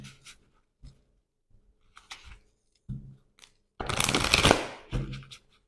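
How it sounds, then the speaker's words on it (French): A card drawn from an oracle deck: soft dry paper rustles and a burst of card shuffling up close, quiet taps and slides between short gaps. "On va prendre une carte avec l'archange Raphaël."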